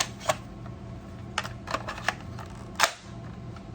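A mini magazine clicks into a Nerf Pro Stryfe X blaster with a few sharp plastic clicks and snaps, close up and spaced out over a quiet background.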